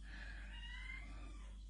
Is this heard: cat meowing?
yes